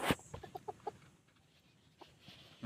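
Wild junglefowl and a rooster cluck in a short run of quick, close clucks, followed by a few fainter calls, in quiet woodland with no talk.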